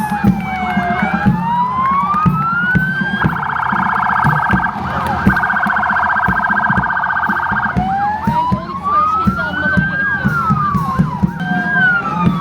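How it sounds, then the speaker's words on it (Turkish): Municipal vehicles and fire trucks pass during a holiday ceremony, sirens blaring loud and close. Rising and falling wails alternate with a rapid warbling yelp, continuous over a steady background rumble. "Belediyesi'ne bağlı araçlarımızın ve itfaiyemizin geçişini izliyoruz."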